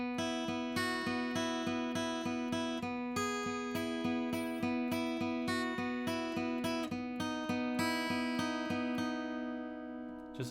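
Guitar plays a section of a song, a fairly quiet, evenly picked pattern of repeated notes with a steady pulse, ending on a ringing chord left to sustain.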